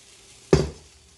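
Single short scrape of a spoon stirring pot roast with melting cheese in a pot, a brief close clatter and squish that fades within a fraction of a second.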